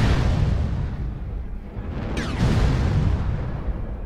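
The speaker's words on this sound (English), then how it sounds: "Artillery strike activated" Rumbling artillery strike explosions in a mech combat video game, a dense sustained low roar with a sharper burst near the middle, loud and continuous without clear separation between blasts.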